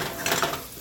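Linguine pasta is stirred in a pot with a utensil, giving a brief, close clatter of light scraping and knocking against the metal, with no one speaking.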